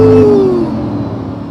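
A supercar accelerates hard, its engine note rising then easing off as it pulls away, loud and close with a steady roar fading slightly toward the end.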